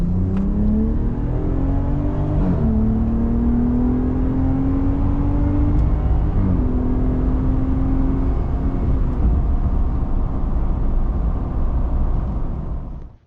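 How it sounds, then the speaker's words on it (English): A car fitted with a RHO Hurricane Bwoody performance intake accelerates hard through several gears. Engine pitch climbs and drops at each shift under a loud, close, rumbling intake roar. "this will be the first acceleration with the Bwoody intake tube"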